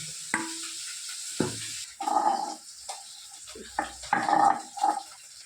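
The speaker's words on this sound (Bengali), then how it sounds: "মাছগুলো ভালো করে ভেজে নেবে" Pakal fish fry in a pan with a soft, steady sizzle, broken by sharp utensil clanks and bursts of spattering oil at irregular moments; fairly quiet and close.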